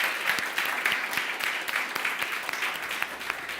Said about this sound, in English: it's time for a huge applause for all the pitches, all the teams that presented your innovative solution